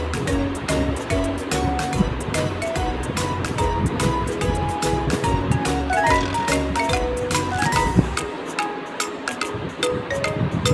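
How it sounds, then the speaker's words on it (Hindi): Water boils hard in a pot on the stove, made ready for sabudana porridge. A continuous roiling, bubbling rush holds steady and fairly loud, with a slight dip near the end. "पानी अच्छे तरीके से बॉईल हो चुका"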